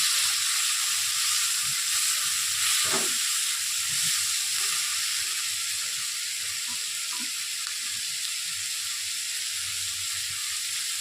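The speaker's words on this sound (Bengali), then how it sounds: "লঙ্কা কুচিগুলো দিয়ে দিলাম। আবার একটু ভালো করে মিশিয়ে নিচ্ছি আর গ্যাসের ফ্লেমটা বাড়িয়ে দিলাম।" Chopped chillies stirred in a pan over a raised gas flame give a steady, close hissing sizzle, with occasional scrapes and clinks from stirring, while chilli chicken is being made.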